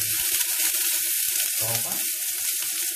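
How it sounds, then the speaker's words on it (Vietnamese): Loud crackling sizzle of tomatoes dropped into hot oil in a pot, with bursts of spattering and popping under a brief spoken remark. "Dầu bắn."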